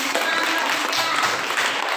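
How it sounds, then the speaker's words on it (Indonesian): Classroom applause as students clap together, a dense, steady patter of hands filling the whole moment at moderate loudness with no talk over it. "Nah, tepuk tangan."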